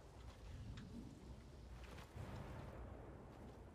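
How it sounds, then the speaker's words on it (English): Lightning strike and rolling thunder with rain-like noise in the Fortnite video game weather effects, a low rumbling wash with two swells, faint and without talk. "I can see that I got struck by lightning."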